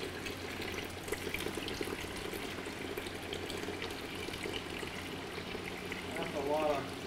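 Water drains and splashes steadily out of a flooded engine during a teardown, a continuous trickling pour heard close up while people talk over it.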